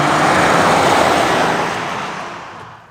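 2022 Chevrolet Silverado LTZ Z71 pickup with a Duramax inline-six diesel on the road, giving a loud, steady broadband rush of engine and road noise that slowly fades toward the end.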